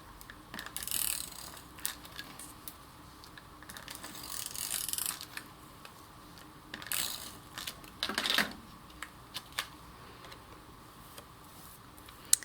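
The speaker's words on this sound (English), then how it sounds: "now we're going to take our art card and our adhesive tape here, and we're just going to run that along the edges" An adhesive tape runner is drawn along the edges of an art card in short ratcheting, clicking strokes, quiet and close, with pauses between passes.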